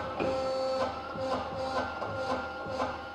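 An Edwards punch station machine running down produces a rhythmic mechanical cycling, with repeated whirring pulses about every half second and a steady tonal hum, fairly close and without speech.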